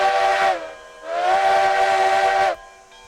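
A steam locomotive whistle in the RailRoads Online game sounds two loud, sustained blasts, a short one then a longer one of about a second and a half, with a faint hiss trailing after.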